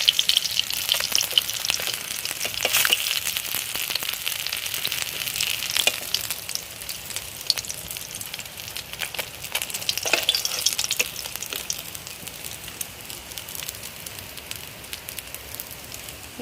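Bata fish fry in hot oil with a continuous crackling sizzle and scattered sharp pops, close and fairly loud throughout, no talking.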